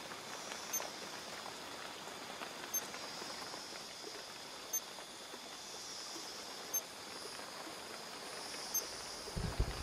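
Faint, steady rain hiss in the video game Shadow of the Tomb Raider, soft patter, a quiet wash of falling drops broken by a few light clicks.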